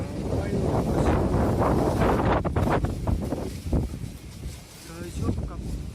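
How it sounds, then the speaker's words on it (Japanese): Strong wind from a passing typhoon roars into the microphone in heavy, continuous gusts, loud and close, easing slightly toward the end while someone speaks over it. "大丈夫か、この台風 は。"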